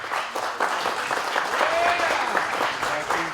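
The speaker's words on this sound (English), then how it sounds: "A big round of applause for these boys." Audience applause at a live DotA 2 Masters Cup esports event, dense sustained clapping from a crowd filling the space from start to finish.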